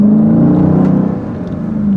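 A Dodge Durango SRT 392 SUV with its Hemi V8 accelerating hard, a loud, steady, close engine roar with a strong low drone that rises slightly in pitch and holds for two seconds.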